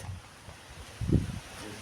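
A brief gust of wind buffets the microphone midway through, a low rumbling rush over a quiet outdoor background in a rose garden.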